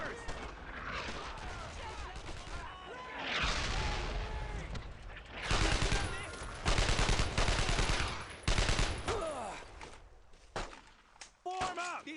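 Bursts of rapid gunfire and heavy shots rattle in the video game Brothers in Arms: Road to Hill 30, loud repeated volleys aimed at a tank, mixed with shouting voices and battle noise.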